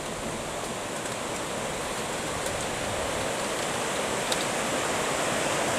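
Mountain river rushing beneath a bridge in the Tararua Range, a steady, loud broadband roar of flowing water that continues unbroken from start to end, with no voices.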